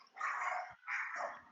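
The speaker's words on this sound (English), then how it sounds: "Sorry, that's my dog." Two loud barks from a nearby dog, each a sustained harsh burst with a short gap between them, heard alone with no talking.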